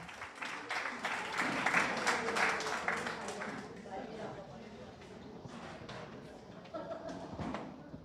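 A literary and arts gathering applauds, scattered hand claps crackling at a fairly faint, distant level, swelling briefly and then thinning out.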